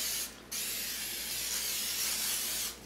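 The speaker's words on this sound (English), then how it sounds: "We're also going to spray this down." A steady hiss from a can of non-stick cooking spray, sprayed in two long bursts separated by a brief pause, close and fairly loud with no talking.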